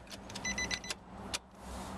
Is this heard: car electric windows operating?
yes